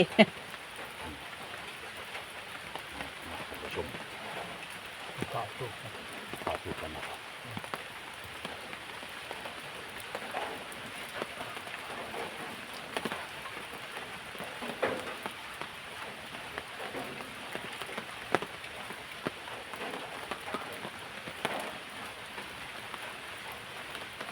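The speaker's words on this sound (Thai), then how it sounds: "ฝนก็ตกนะคะ" Steady rain falls throughout at moderate loudness, a dense broadband patter of drops on a surface with no clear pauses, heard outdoors in rural Laos.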